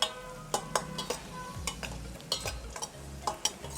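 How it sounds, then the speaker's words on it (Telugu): Dry fruits frying in a pan over a low flame for sheer khurma, heard as a soft steady sizzle with repeated scraping stirs and light clinks of the spoon against the pan, close and without talk. "సిమ్ ఫ్లేమ్లో పెట్టుకొని వేయించుకోవాలి."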